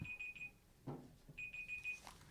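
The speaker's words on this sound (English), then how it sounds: "Oh, it's the timer." A Google timer alarm sounds in bursts of rapid high electronic beeps, broken by a gap filled with a few quiet knocks and rustles, then resuming; fairly faint and with no talking.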